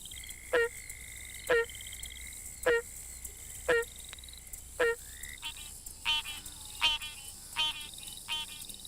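A squirrel tree frog gives repeated raspy calls at a steady rhythm, about one per second, over a background chorus of insects and other frogs.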